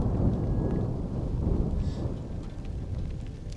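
Deep rolling thunder rumbles continuously with rain falling steadily at an African wildlife campsite in late September, a heavy low roar filling the whole stretch.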